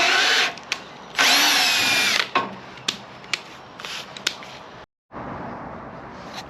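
A power drill drives screws through holes in a custom overlay build, whirring in several loud bursts of about a second, with short buzzes and stops between runs and a steady run near the end, close and without speech.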